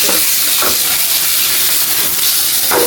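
Tomatoes poured into hot oil with bay leaf, cardamom, cinnamon and panch phoron for a Bengali mixed vegetable dish, a loud, steady close sizzle and hiss with a few brief stirring scrapes.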